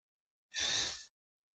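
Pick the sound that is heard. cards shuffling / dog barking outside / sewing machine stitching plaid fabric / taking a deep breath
taking a deep breath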